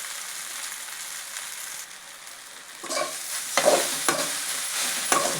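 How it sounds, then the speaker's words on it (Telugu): Idlis being stir-fried in a pan with chili powder for upma: a faint, quiet sizzle at first, then loud scraping spatula strokes and rustling stirs near the end, close by, with no talking. "బాగా ఫ్రై చేసుకోవాలా. ఇప్పుడు ఇడ్లీలు వేసుకున్నాము."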